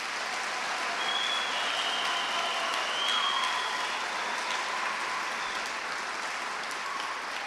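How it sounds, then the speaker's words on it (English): A school auditorium audience applauds steadily after an all-county high school chorus performance, a dense even wash of clapping that holds at a moderate level for the whole stretch, with a faint whistle-like tone drifting through. "Let's give them one more round of applause."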